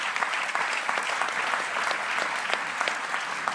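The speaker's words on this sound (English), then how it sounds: "Give them a great applaud for their contribution." Steady, full audience applause for conference panelists at an energy transition event, dense and even throughout, with no one talking over it.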